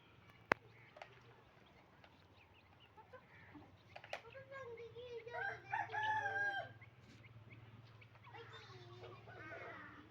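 Desi chickens on a rooftop coop cluck softly while a rooster crows once in a drawn-out call mid-way, with sharp background knocks and faint human voices nearby.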